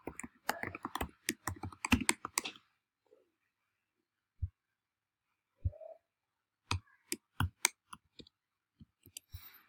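Code is typed on a computer keyboard in a nearby burst of rapid clicking keystrokes, then a few isolated taps after a pause, and another quick flurry of keys at the end.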